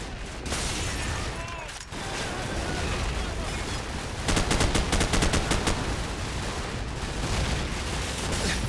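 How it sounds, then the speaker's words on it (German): Anti-aircraft flak fire in Call of Duty 4: Modern Warfare, with sustained loud gunfire throughout and a dense, rapid burst of cracking shots in the middle. A voice is heard over the combat noise. "Da ist die Flak."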